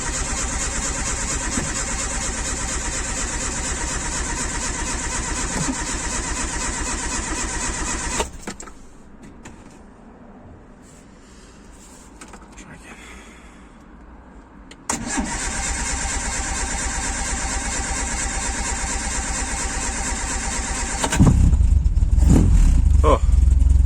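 A Westfield SEi with a suspected ignition fault cranks loudly and steadily for about eight seconds, pauses, cranks again, then catches and fires into a louder running note near the end, with quiet talk in between.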